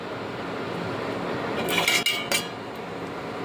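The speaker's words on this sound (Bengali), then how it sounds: "এবার দইয়ের পাতিলটা বসিয়ে দিলাম" A clay pot of curd is set down on a plate inside a heated kadai for Bengali red curd. Two close ceramic clunks and a clink stand out against a quiet background hiss.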